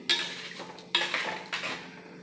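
Spoon scraping and clinking against a pot while stirring mango pulissery, a Kerala curry of ripe mango with salt just added, three distinct bursts of metallic scraping at a steady pace, close and moderately loud, with no talk.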